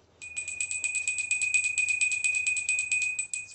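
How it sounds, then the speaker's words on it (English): A small handheld bell rings in a rapid, steady run of bright metallic strikes, close and clear over a quiet background, stopping abruptly after about three seconds. "So we're going to ring the bell."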